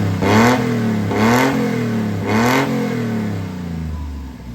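A Honda Acty engine with no muffler fitted, on a homemade open exhaust, revs hard three times in a row. Each blip rises and falls sharply over a steady raw idle, loud and close.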